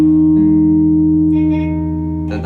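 A slide guitar holds a sustained chord with a low bass note underneath, ringing loud and smooth, the tone sliding slightly in pitch before fading as a new strum comes in near the end.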